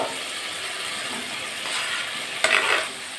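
Potato and okra cooking in a spiced masala in a pan of oil give a steady, even frying hiss, broken near the end by one brief stirring scrape. No one speaks.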